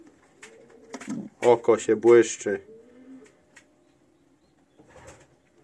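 A pigeon coos in a short burst of several rolling notes close by, with a person speaking briefly around it and quiet gaps between.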